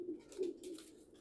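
A pigeon coos softly in short, low, rounded bursts while it is held in someone's hands for wing feather plucking, with light rustling between the calls.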